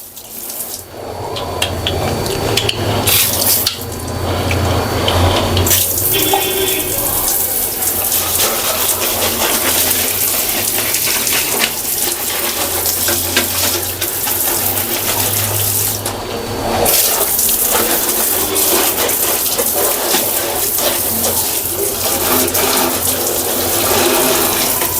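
Water pouring steadily to rinse an Indian squat toilet after a yellow stain remover has been applied, a loud continuous gushing splash with a couple of brief pauses and shifts in flow.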